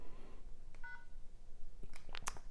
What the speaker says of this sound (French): La fameuse touche savoir-vivre, je vous disais, avec le dièse, voilà, qui activait le vibreur.